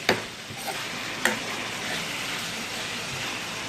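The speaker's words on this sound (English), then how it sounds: "we're just going to give it a really good stir" Potatoes and carrots with salt stirred in a pot with a spoon, a few scraping knocks over a steady sizzle, close and moderate in loudness.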